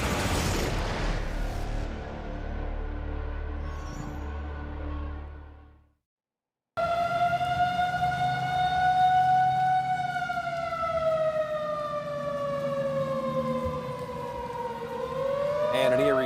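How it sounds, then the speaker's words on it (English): Tornado warning sirens wail across Houston, Mississippi, during a severe storm outbreak at night; a loud drawn-out tone slowly falls and rises, following a stretch of rushing wind and storm noise and a brief silence. "This is Houston, Mississippi, with tornado sirens going off."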